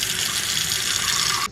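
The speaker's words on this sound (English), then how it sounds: "So I'm going to fill my bowl here with water." Water from a kitchen tap pours into a bowl as it fills, a loud, steady splashing rush that runs close and unbroken, then cuts off abruptly.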